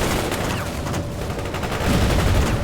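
Sustained barrage of gunfire and explosive booms from Soviet forces in World in Conflict, dense and continuous, with heavier low blasts swelling near the end.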